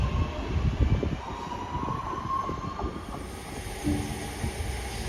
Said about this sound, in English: there goes the 1416 West Midlands Railway service to Redditch via Birmingham New Street